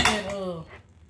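A spoon scraping against a casserole dish holding King Ranch chicken casserole, one short grating rasp under a speaking voice before it fades.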